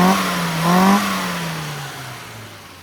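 A tuned Mini's engine revs up in a short sharp burst, then the pitch drops away as it settles, heard close and loud with no voices.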